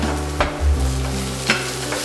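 Cashew nuts and raisins fry in hot oil with green cardamom, cinnamon stick, cumin seeds and cloves, a steady sizzle broken by a few stirring scrapes, close and clear with no talking.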